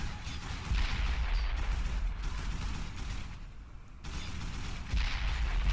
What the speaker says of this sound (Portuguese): Mas agora eu vou atirar.